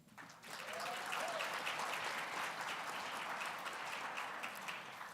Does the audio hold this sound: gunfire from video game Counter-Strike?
no